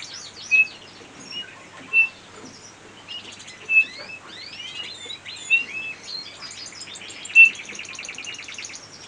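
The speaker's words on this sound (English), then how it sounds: "Lovely birds, bullfinches." Captive breeding bullfinches give soft, piping whistled calls and chirps, several clear notes spaced a second or two apart, building into denser twittering, close and alone with no voices.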